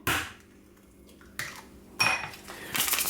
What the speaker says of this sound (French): Je vais casser mes 2 œufs dans le saladier.